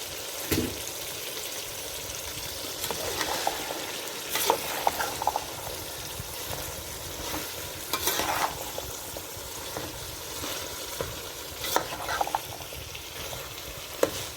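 Chicken and cauliflower fry in oil with a steady hiss while a spoon stirs and scrapes the pan, giving occasional louder clinks; no one speaks.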